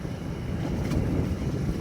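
A cool wind blows along a tree-lined road, a steady low rushing noise with no talk, fairly faint and even throughout.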